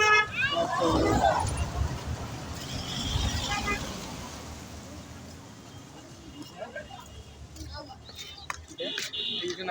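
A car passes along a road near a river bridge, its engine swelling then fading, while adults and someone talk close by over general traffic noise.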